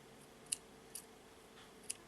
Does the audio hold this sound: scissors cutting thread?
yes